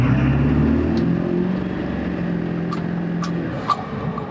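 A 7.3L Powerstroke diesel truck accelerating in a 0-60 run gives a steady, close engine drone with low rumbling harmonics, broken by a few short clicks and ticks near the end.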